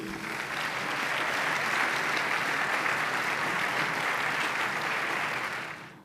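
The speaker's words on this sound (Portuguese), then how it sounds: "Uma salva de palmas" A conference audience applauds steadily as a science speaker is welcomed, with dense, even clapping that swells quickly, holds for several seconds and fades at the end, with no talk over it.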